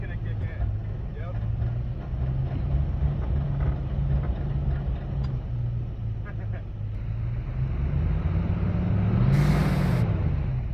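Steady engine drone of a Lexus GX460 working on an off-road trail as its wheels spin and traction control engages, with a low, rising strain near the end under people talking.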